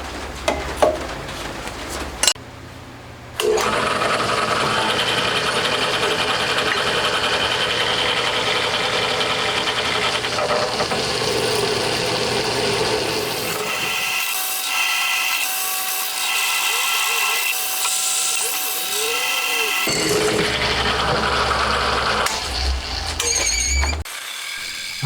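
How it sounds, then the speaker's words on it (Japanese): A jigsaw cuts sheet metal to build a casting furnace, a loud, continuous buzzing rasp that runs for about twenty seconds with slight changes in tone, starting and stopping with short pauses at both ends. "開けた穴を取っかかりにジグソーで切っていきます。"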